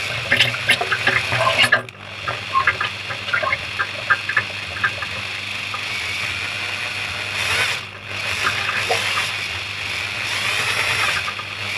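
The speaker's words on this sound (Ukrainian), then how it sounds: "включаю камеру для того, щоб показати, як польється масло зверху" Engine oil pouring and splashing from the top of a Kawasaki ZX14 motorcycle during an oil and filter change, a continuous liquid gush with a faint mechanical whine underneath and brief clattery handling at the start.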